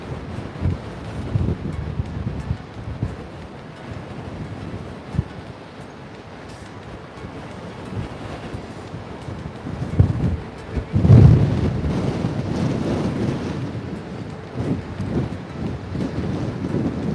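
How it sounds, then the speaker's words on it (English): Strong wind blows near the Golden Gate Bridge in San Francisco, buffeting the microphone with a constant rumble that swells into louder gusts partway through. "It's so windy right now."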